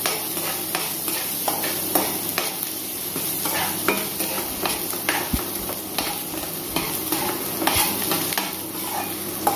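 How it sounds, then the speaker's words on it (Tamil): Onions sauté in a pan for cauliflower Gobi Manchurian, a constant close sizzle broken by regular scraping stirs and occasional metallic knocks of a spatula against the pan. "வெங்காயம் நல்லா சுருண்டு வர அளவுக்கு நல்லா வதக்கி எடுத்துக்கலாம்"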